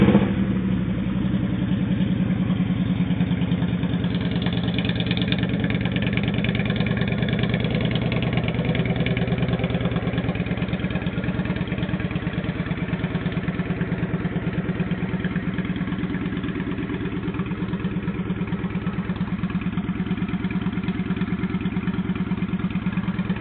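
2007 Kawasaki Vulcan 900 Classic LT motorcycle with Cobra exhaust pipes idling steadily up close, a continuous low, throbbing rumble with even pulsing, loud and alone for the whole stretch.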